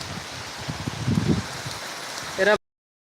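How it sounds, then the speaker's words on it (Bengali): Heavy rain pours down in a steady, broad hiss, with a voice briefly audible before the sound cuts off abruptly. "এখানে কিন্তু প্রচণ্ড বৃষ্টিপাত হচ্ছে"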